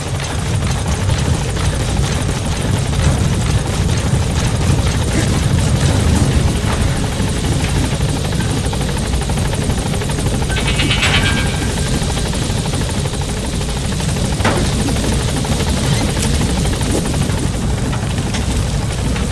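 A support helicopter in the Metal Gear Solid V video game arrives at a landing zone, its steady, loud rotor drone filling the whole stretch with a continuous thrum and no speech.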